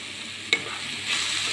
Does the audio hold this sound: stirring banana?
yes